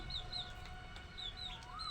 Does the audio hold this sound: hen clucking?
yes